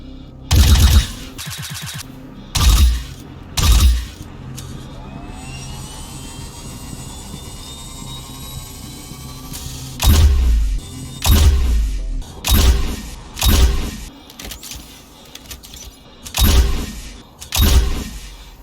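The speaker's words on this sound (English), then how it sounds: "if you would so kindly listen to the 3 separate fire modes of the weapon now" An energy weapon in Star Citizen fires in three modes: punchy single shots and bursts, plus a rising whine of charging, loud and close with brief gaps between volleys.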